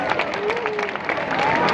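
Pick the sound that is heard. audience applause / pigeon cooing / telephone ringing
audience applause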